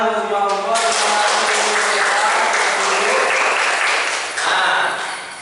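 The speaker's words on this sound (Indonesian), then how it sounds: "Boleh tepuk tangan untuk semua kelompok." Classroom applause for all the student groups, a dense burst of many hands clapping together that carries steadily for about four seconds, then tails off near the end.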